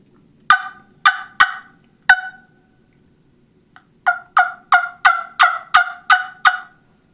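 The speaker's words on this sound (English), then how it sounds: "you'll get that loud cackling sound that the hens make" A wing bone turkey call played in sharp yelping bursts: four spaced notes, a pause, then a rapid run of about eight evenly paced yelps, loud and close.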